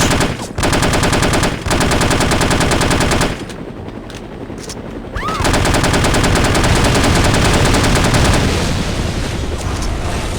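A helicopter's machine gun fires in the video game No One Lives Forever, long loud continuous bursts with a brief lull in the middle before the rapid fire resumes at full intensity.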